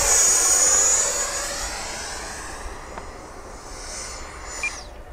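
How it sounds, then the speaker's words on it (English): An FMS Rafale RC jet fitted with an afterburner and new nozzles roars past, a loud jet whoosh that peaks at the start and fades with a falling pitch as it climbs away. "I'm going to come whizzing by you. Go vertical in the middle."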